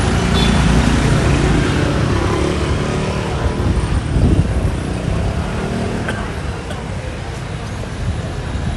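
Motorbikes and street traffic in Patong, Phuket, on a Sunday morning, a continuous loud wash of engine rumble and road noise close by, with no single clear pass standing out.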